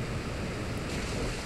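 The Muddy Water attack in the Pokémon Moon video game plays as a steady, loud rushing wash of watery noise, like crashing surf, filling the whole moment without any voice.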